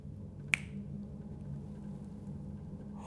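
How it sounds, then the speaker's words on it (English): A single sharp finger snap rings out near the start in a quiet indoor room, followed by low steady background hum with no other sounds. "Can you make that flashlight turn on when I snap my fingers?"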